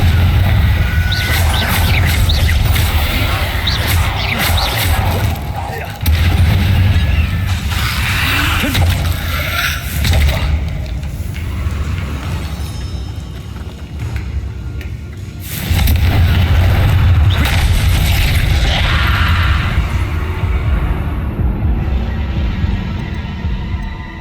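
Confringo explosive curse blasts in Hogwarts Legacy, deep booming detonations with a low throbbing rumble, two heavy bursts separated by a quieter mechanical hum, loud and close.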